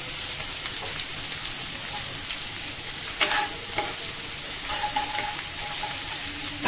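Garlic stirred and frying in a pan over low gas for an Indian-style Mongolian rice, a loud, steady sizzle with occasional scrapes of the spoon against the pan, no talk.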